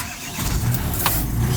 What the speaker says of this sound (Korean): 시동을 켰습니다.